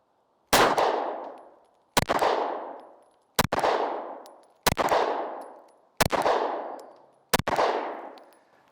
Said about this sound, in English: I just want to see how close we can get 5 consecutive shots on that, we'll call it 1-inch circle.